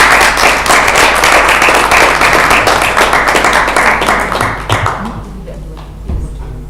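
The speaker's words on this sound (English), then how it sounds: "everyone give a round of applause" A conference audience at an international business conference gives a round of applause, loud dense clapping that holds steady then fades out over the last couple of seconds, leaving scattered claps and a thump.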